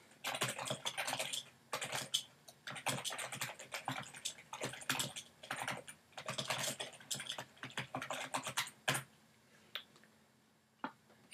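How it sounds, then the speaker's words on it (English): Close, steady typing on a computer keyboard, bursts of rapid key clicks with brief pauses between, alone without talk in a quiet room. "For a description then, I'll just go ahead and type briefly"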